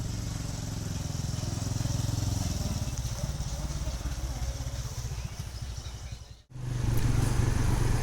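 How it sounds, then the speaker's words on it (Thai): A long traffic jam of motorcycles and cars on a road in Laos, engines idling and puttering close by in a dense steady drone, briefly cut out before resuming. "ตัวนี้จะเป็นภาพบรรยากาศรถติดที่ขาทางอยู่ในบ้าน"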